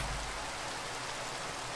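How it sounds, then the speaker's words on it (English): Steady rain falls in the video game Minecraft as an even, hissing wash of noise with no breaks, moderately quiet and without talk. "the rain is pretty annoying too"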